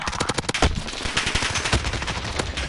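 Rapid automatic gunfire from the Call of Duty video game during an intramural match, dense bursts of shots with heavy low thumps, loud and continuous throughout.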